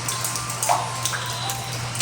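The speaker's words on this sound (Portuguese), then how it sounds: "Saindo água daqui, ó." Water leaks and trickles inside a flooded fire brigade barracks, a close, continuous splashing and dripping with small bursts, heard alone.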